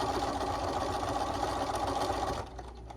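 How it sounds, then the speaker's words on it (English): A sewing machine runs steadily, stitching around the top of a fabric trick-or-treat bag in one continuous close whirring run that slows and eases off just before the end. "I'm just sewing all the way around the top."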